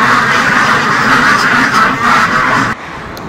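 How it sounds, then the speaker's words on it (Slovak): A flock of farmyard ducks quacks continuously in a dense, overlapping chorus, loud and close, with the racket keeping up steadily before dropping slightly at the end. "Kačky, kačky, kačky."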